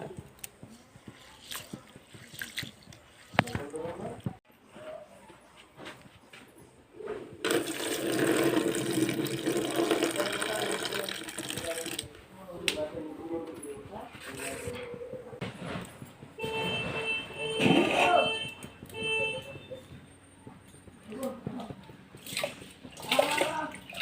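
Water is poured over soaked soybeans to wash them in a home kitchen, a loud rushing splash lasting several seconds amid scattered handling clatter and quieter water sounds before and after.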